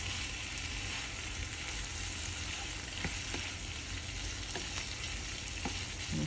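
Saltfish for Jamaican ackee and saltfish frying in a pan, giving a constant close crackling sizzle with occasional sharper pops throughout, no voices.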